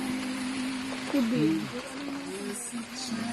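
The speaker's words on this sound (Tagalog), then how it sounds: "Umuulan." Rain falls on a roof at Capaluhan Beach in Calauag, Quezon, as a constant soft hiss under a nearby voice.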